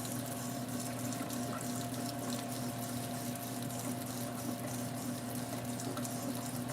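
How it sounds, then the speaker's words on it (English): Water being poured off rinsed grits in a kitchen gives a steady, continuous rushing wash that stays even and fairly close throughout, with no talking. "pour the water off of the grits"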